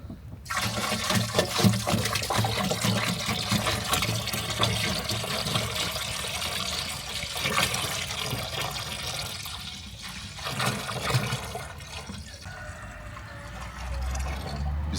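Water runs steadily into a Bordeaux mixture being made up for spraying trees, a continuous close splashing, pouring rush lasting throughout with slight variations, no speech heard.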